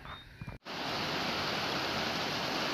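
Jennings Creek on the Appalachian Trail rushes in a steady, close, broadband wash of flowing water, preceded by a brief moment of quieter ambient sound before the stream noise fills in.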